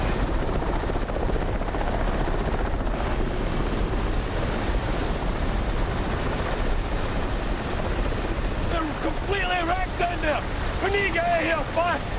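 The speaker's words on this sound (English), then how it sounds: "Chopper, go!" Loud, continuous rotor thump and engine roar from a helicopter flying close, filling the scene without letup, with voices shouting partly under the noise near the end.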